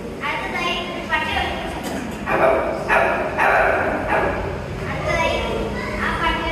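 A voice imitates a dog barking, a series of loud close yelping barks in irregular bursts, with some faint background chatter.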